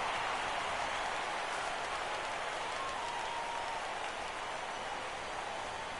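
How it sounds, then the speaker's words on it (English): Stadium crowd noise in the baseball video game MLB The Show 17 plays as a steady, faint wash of cheering and murmur at a playoff game, with no talking. "And listen to this crowd again."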